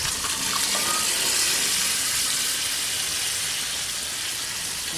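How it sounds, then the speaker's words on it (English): Gravy poured into a chicken pot pie cooking on a Big Green Egg grill at about 350 degrees, heard as a steady, close liquid gush with no talking. "So we're going to add all of this gravy."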